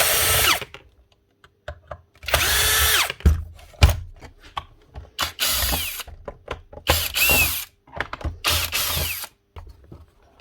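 A power screwdriver whirs in short bursts, backing screws out of a Dewalt nail gun, with ratcheting clicks and tool handling between the runs, close and loud.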